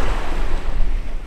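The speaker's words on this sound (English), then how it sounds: "It is so windy." Strong wind at a seaside sunset spot, a loud, steady roaring buffet against the microphone with a surf-like wash, brief and with no voices.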